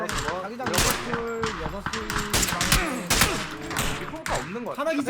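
Rapid bursts of gunfire in PUBG: Battlegrounds crackle and pop over a busy, layered background of game sounds and voices talking.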